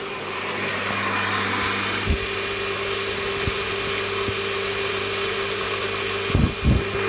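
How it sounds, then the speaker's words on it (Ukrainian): A grain mill grinds barley steadily with a constant motor drone and hum, broken by a few sharp knocks and thumps. "Мелимо ячмінь."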